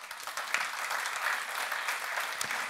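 Audience at a caravanning industry conference on sustainability claps in a brief, steady burst of applause, moderately distant and fairly soft, with no voices over it.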